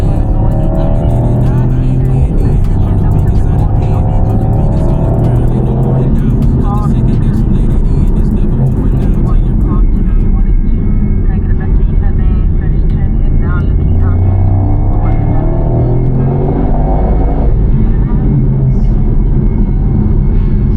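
Mercedes-Benz car driving a lap on a race track, with a loud, steady engine drone whose pitch rises and falls through gear changes. People talk over it throughout.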